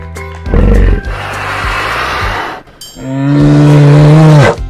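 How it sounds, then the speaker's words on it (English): A bear's deep, rumbling growl rises loud and close, breaks off, then returns as a long, drawn-out roar that fades at the end. "Whoa, that bear sounds big!"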